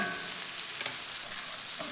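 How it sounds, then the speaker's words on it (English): Onions with sea salt sizzle and brown in a hot pan, a constant dense frying hiss with a brief utensil tap, heard close and without talk. "Stir it once more to distribute that sea salt and then allow it to make contact with the pan to make some nice browning"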